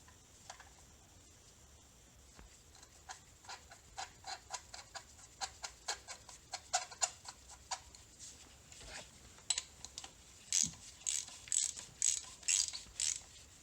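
A ratchet clicks in quick bursts while tightening tapered spark plugs back into a 2012 Ford Focus direct-injection engine, faint and close, with rhythmic runs of ticking separated by short pauses and louder bursts near the end.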